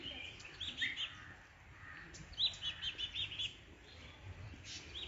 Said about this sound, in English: You can hear the chirping of the birds.